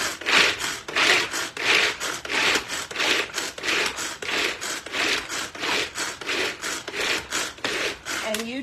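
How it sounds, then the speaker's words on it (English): Tupperware pull-cord chopper in a kitchen, its cord yanked over and over in a steady fast rhythm of loud ratcheting, whirring pulls that continue for several seconds with no talk. "And you just give it a pull and get whatever you want to chop down to whatever size you want."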